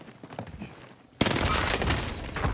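STG 44 rifle fire in Call of Duty Warzone on Rebirth Island: after a quieter stretch of distant game noise, a loud sustained burst of rapid gunfire erupts partway through and continues densely to the end.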